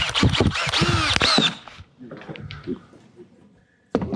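A power drill whirs in several short, high-pitched bursts up close, followed by quieter handling and clattering noises.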